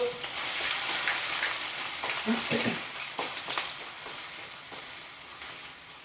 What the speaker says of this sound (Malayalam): നമ്മുടെ എണ്ണ ഇവിടെ ചൂടായി വന്നിട്ടുണ്ട്. അതിലേക്ക് നമുക്ക് ആദ്യം തന്നെ ഇഞ്ചി നുറുക്കി വെച്ചിട്ടുണ്ടല്ലോ, അതങ്ങോട്ട് ഇട്ട് കൊടുക്കാം.